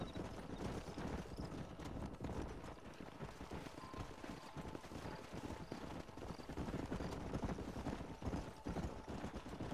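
A herd of horses runs in the Western game Red Dead Redemption, their hooves making a dense, continuous clip-clop drumming that is very faint and steady throughout.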